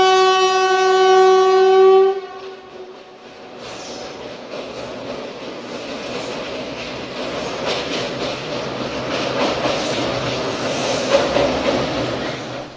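A long blare from the Kochuveli–Lokmanya Tilak Express horn opens, then the train thunders steadily across an old 1906 British railway bridge on laterite pillars spanning the Karyangode river, with a close roar of wheels and squeals continuing to the end.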